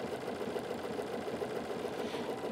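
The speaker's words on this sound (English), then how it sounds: "the blanket stitch is just going to take a bite into my applique." A sewing machine runs a blanket stitch along the edge of applique fabric, a steady close mechanical whir with rapid even needle ticking that never pauses.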